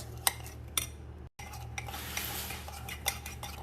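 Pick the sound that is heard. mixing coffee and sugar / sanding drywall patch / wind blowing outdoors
mixing coffee and sugar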